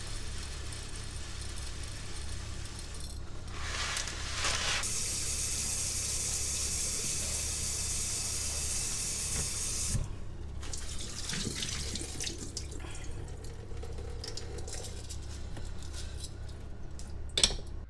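Water runs from a tap and pours steadily into jars holding wheatgrass seeds for soaking, a loud continuous splash that stops partway through and then resumes more unevenly near the end.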